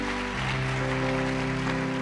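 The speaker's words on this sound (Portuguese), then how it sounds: "Você pode aplaudir o Senhor mais uma vez bem forte?" A church congregation claps together in sustained, dense applause, loud and steady throughout with no pauses.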